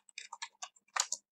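JavaScript code being typed on a computer keyboard, a short quick burst of about eight close, crisp key clicks with no voice over them.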